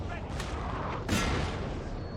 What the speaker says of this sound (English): Cannon ready, sir.